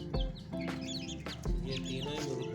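Several hens cluck near and loud in a domestic yard, repeated throaty calls overlapping in an uneven rhythm with no talking.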